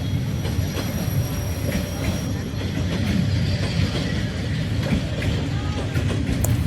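A train rolls along the meter-gauge track through the narrow train street in Hanoi, a loud, steady, close rumble with wheels squealing over the rails.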